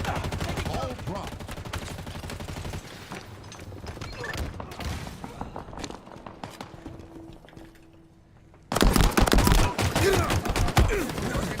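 Gunfire rattles through a Halo Infinite match: rapid bursts of automatic shots come first, then a quieter stretch with a faint hum, and finally a loud, dense barrage of fire near the end.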